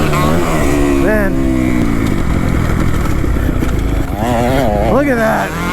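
Racing motorcycle engines rev hard and fluctuate as a rider downshifts mid-air and slows for a jump, a loud continuous buzzing drone with rising and falling pitch, heard alongside excited commentary.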